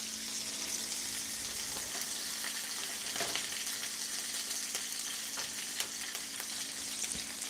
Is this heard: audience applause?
no